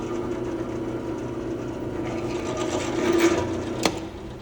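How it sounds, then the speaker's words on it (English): A drill press running as its bit plunges through a wooden workpiece, a steady motor whine with a rising grinding tone and a sharp knock near the end, close by and alone. "Once we're confident we're lined up, we'll plunge our bit through."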